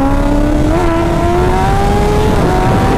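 Kawasaki ZX10R motorcycles with aero exhausts race, a loud close engine revving hard in a steady rising whine that climbs through the gears, with no talk over it.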